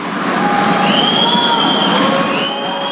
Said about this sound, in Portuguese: Depois das vaias